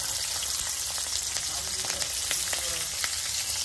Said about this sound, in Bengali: পেঁয়াজ কাঁচামরিচ ভাজা হয়ে গেছে